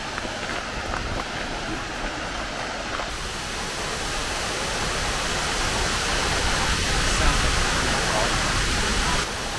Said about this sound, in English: This is the Upper North Falls